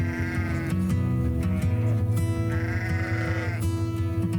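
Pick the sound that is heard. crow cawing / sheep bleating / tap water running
sheep bleating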